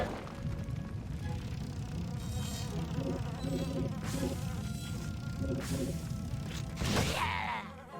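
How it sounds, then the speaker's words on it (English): A mosquito nest buzzes steadily in Kameo: Elements of Power, a dense insect drone that runs throughout, with some game hits and clatter near the end. "Mosquito nest."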